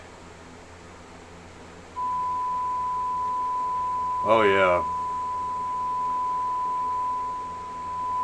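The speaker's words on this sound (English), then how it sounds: "This is nothing but beeps" A single long, steady electronic beep tone holds on after a click, with a brief spoken exclamation partway through and a soft hiss underneath.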